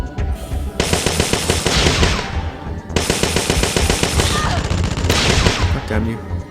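Automatic gunfire in the video game Parasite Eve II comes as three long, loud bursts of rapid shots with brief gaps between them.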